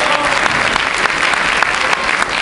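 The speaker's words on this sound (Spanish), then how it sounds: "un aplauso por favor para mi maestro Rubén" Audience at a Rosy Arango stage show applauding her teacher Rubén, a dense, steady wash of many hands clapping close and loud throughout with a few faint cheers mixed in.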